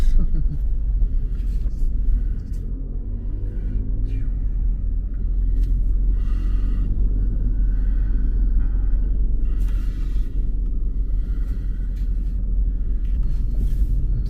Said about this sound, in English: So let's drive, guys.